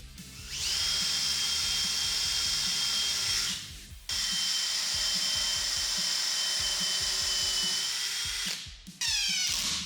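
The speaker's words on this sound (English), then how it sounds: "hitting the marks with a pre-drilling countersink thing and screwing them all together" A power drill with a countersink bit runs in long sustained high-pitched whines while pre-drilling and driving screws into cabinet joinery, with brief pauses between runs and a rising spin-up at the end, close and loud.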